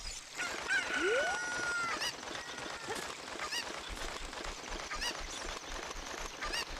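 Cucco chicken from the Zelda: Ocarina of Time video game, clucking and squawking in short bursts over busy game music and effects, with a rising squawk near the start and repeated bright cries throughout.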